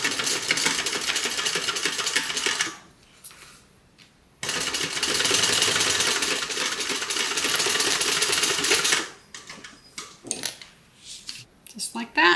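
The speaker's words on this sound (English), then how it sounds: "We're going to flip it and now we're going to top stitch." Sewing machine top stitching a seam on a crossbody bag, running in two long steady bursts separated by a short pause, then stopping amid lighter handling sounds at close range.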